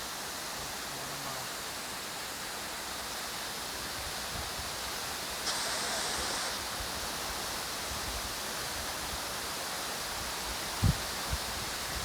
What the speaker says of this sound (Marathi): बघा किती सुंदर वॉटरफॉल आहे, त्याचा आवाज तुम्ही पाहू शकत असाल, कारण पाऊस पण जोरदार पडतोय इथे.